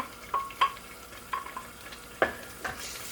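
A thick vegan soup in a pot, a low simmering hiss punctuated by several sharp pops and spatters spaced irregularly, close and fairly quiet.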